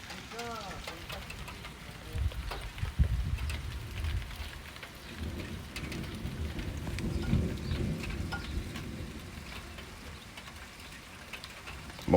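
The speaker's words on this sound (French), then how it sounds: "Ah, j'adore les orages en fait." Heavy thunderstorm with steady rain hissing on surfaces and deep rolling thunder rumbles swelling and fading in the background, with a person talking quietly over it.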